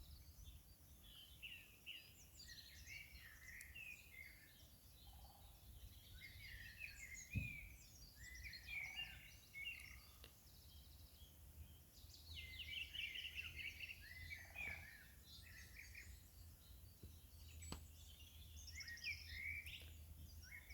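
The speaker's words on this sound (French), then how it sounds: "écouter le chant des oiseaux" Birds sing at sunrise in an outdoor setting, with many overlapping chirps and trills at a distance, faint and continuous, with no talking.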